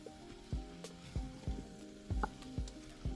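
Potatoes and paprika being stirred in an Instant Pot: a steady series of about six soft scraping thuds, roughly twice a second, close and fairly quiet, with no talking.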